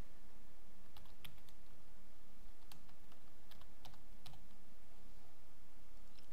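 Quiet computer keyboard typing while filling out form fields, a loose string of light key clicks spread over several seconds above a steady low room hum, with no speech.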